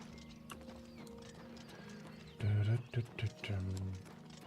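Horse hooves clip-clop in a video game, followed by a loud close whinny and snorting, over quiet background ambience and faint game sounds.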